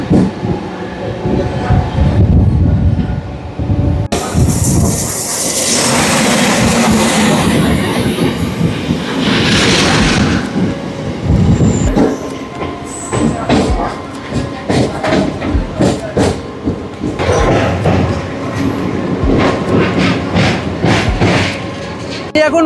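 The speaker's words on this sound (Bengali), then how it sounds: "এখন ক্রস করছি রূপনারায়ণ নদীর ওপরে রেল ব্রিজ" A Howrah–Digha local train crosses the rail bridge over the Rupnarayan river, its loud close rumble, rhythmic wheel clatter and occasional squeal running throughout, with a voice speaking over the noise from on board.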